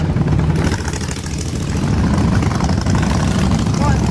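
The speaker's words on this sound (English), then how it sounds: "I love hearing the sound, the deep-throated engines." Deep rumbling motorcycle engines pulling away, a loud, continuous low growl that swells slightly as the bikes leave, with no clear talk over it.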